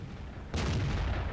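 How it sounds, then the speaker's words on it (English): A single tank cannon shot in World of Tanks, one sudden heavy boom partway through followed by a lingering rumble. "the shot goes a little bit to the right, and I miss him"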